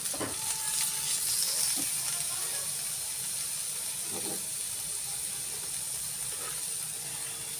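Brinjal frying in a pan for chutney, a steady close sizzle and hiss with occasional stirring scrapes, and no talk over it.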